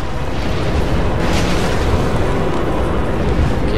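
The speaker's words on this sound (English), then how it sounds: "It's a fire breath." A boss's fire breath attack in Dark Souls 2, a sustained loud roaring blast of flame with rumbling bursts layered through it, continuous and close.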